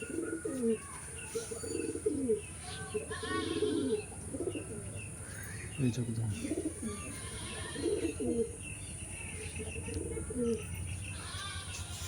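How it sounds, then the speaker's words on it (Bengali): A pet pigeon coos close by in a home loft, repeated throaty rolling coos in an irregular rhythm with faint chirps behind and someone speaking briefly. "খুবই সুন্দর পায়রা, আমার একটা অনেক পছন্দের পায়রা।"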